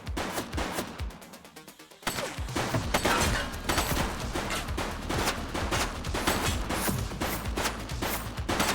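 Suspect's gunfire in the police game The Precinct: rapid bursts of loud, close shots crackle in a dense, continuous volley after a brief lull, with no talking.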